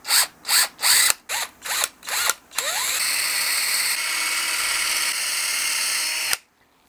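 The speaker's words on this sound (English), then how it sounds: "drill an 8 millimeter hole all the way through the headstock" A drill bores an 8 mm hole front to back through a guitar headstock, first in several short revving bursts, then one sustained close whine that cuts off abruptly.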